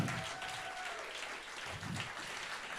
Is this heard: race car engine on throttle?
no